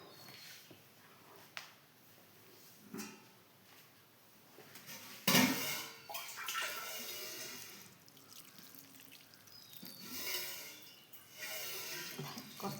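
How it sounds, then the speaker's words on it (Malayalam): Water is poured into a pan of guava for halwa: quiet kitchen clatter at first, then a sudden splash and a stretch of rushing, gurgling liquid that tapers off, with no talk. "ഇപ്പോൾ കുറച്ച് വെള്ളം ഒഴിക്കുക. ഇത് വേവാൻ വേണ്ടിയിട്ടുള്ള കുറച്ച് വെള്ളം ഒഴിക്കുക."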